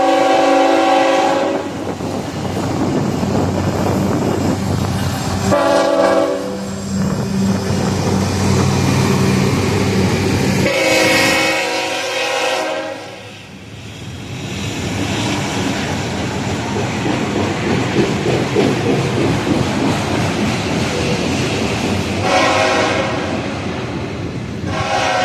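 A CN freight train led by a single GE Evolution locomotive rolls past loudly and steadily, its horn sounding in several long blasts over the rumble and clatter of the cars.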